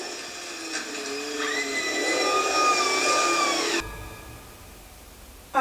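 A chainsaw whines steadily for nearly four seconds in a Chucky TV episode, fairly quiet and high-pitched with a slight wavering pitch, then cuts off abruptly, leaving near silence before a brief thump.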